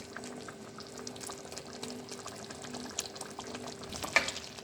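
Chicken and onion frying in a pan for a white karahi, with a steady low sizzle and soft bubbling throughout and a brief sharper spatter near the end.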